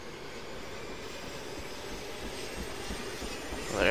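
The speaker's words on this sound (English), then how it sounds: "They were repairing this helicopter." A steady, droning helicopter engine in the video game DayZ, a continuous mechanical roar that builds slightly toward the end, with no speech.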